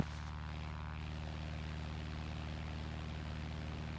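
A small propeller airplane lifting off a runway, its engine roaring loud and steady with a constant droning hum throughout, heard from inside the cabin.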